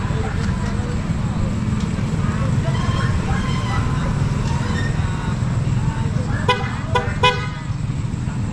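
A PIAA aftermarket horn on a TMX 125 motorcycle gives a few short, loud honks near the end, over a steady road and engine background with voices earlier.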